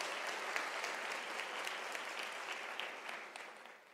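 Audience applause at a University of South Africa autumn graduation ceremony, a steady wash of many hands clapping that fills the hall for four seconds and gradually thins toward the end.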